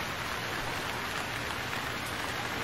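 Rain falls in the survival video game Stranded Deep, a dense, steady wash of hiss with no other sounds over it.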